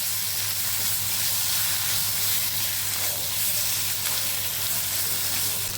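Paneer fries in an oil-filled pan with a constant, close, bright sizzle and hiss, steady and crackling without pause, under a faint low hum.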